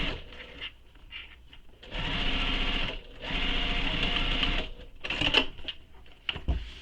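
Sewing machine stitching a fabric belt bag, running in two steady motor bursts of about a second and a half each, separated by brief pauses and soft handling noises, close and moderately loud.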